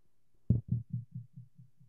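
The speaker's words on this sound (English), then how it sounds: "And when you quit, it sounds like this." Quit sound from the Mac board game collection Big Bang Board Games: a series of seven low, thudding pulses that start loud and fade steadily over under two seconds, like a slowing heartbeat.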